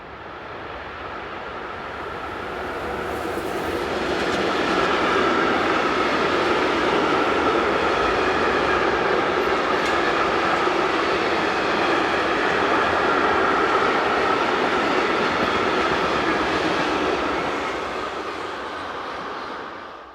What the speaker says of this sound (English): one of the new locos, number 186428, rounds the curve heading east.